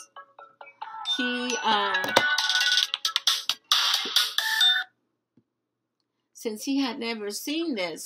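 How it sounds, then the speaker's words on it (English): A bright electronic phone ringtone plays a melodic, warbling pattern for a few seconds, then stops; a voice speaks briefly afterward. "Sorry, that was a phone call."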